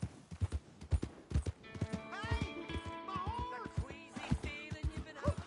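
Horse hooves clop in quick rhythmic bursts in the Red Dead Redemption video game. A horse whinnies and snorts clearly partway through, and the hooves pick up again near the end.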